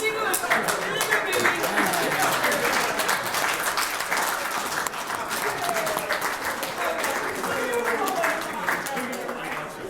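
Wedding reception guests at a golf and country club applaud, loud sustained clapping filling the room, with voices murmuring and talking beneath it.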